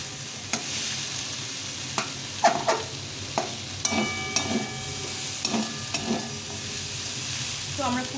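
Vegetables and chopped tomatoes sizzle steadily in a pan while a utensil stirs and scrapes through them in irregular bursts, with a few sharper clinks against the metal; no one speaks.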